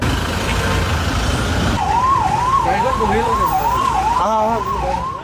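An ambulance siren wails loud and near, rising and falling over busy road and crowd noise from a couple of seconds in, with a second overlapping siren tone joining toward the end.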